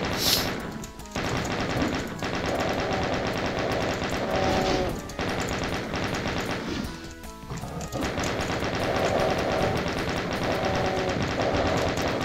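The chain gun in Doom fires in long, continuous rattling bursts, loud and close, under dense game effects, with a brief break partway through.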